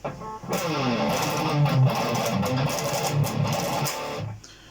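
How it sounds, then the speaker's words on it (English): A fast, heavily distorted electric guitar plays a driving sequence of thrash metal riffs with chugging low notes, loud and close, ending abruptly. "So the whole sequence of riffs should sound like this."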